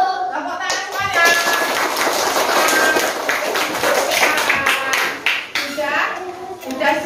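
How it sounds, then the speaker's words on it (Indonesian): Classroom group clapping led by a teacher at an Indonesian school, a dense stretch of rapid hand claps lasting several seconds with children's voices mixed in throughout. "Tepuk tangan semuanya."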